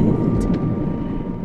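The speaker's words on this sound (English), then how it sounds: "all of a sudden they heard the rumble of thunder." A low, steady rumble of thunder rolls on continuously and fairly loud, with a brief higher whoosh near the start and no voices.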